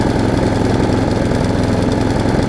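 Craftsman self-propelled lawn mower engine running steadily after carburetor work, a loud, close, continuous small-engine drone with a rapid rhythmic chug and no pauses.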